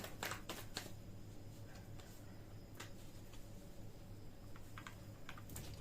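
Tarot cards being shuffled at a quiet table, a run of soft papery riffles and taps bunched at the start, then sparser light flicks over a steady low hum.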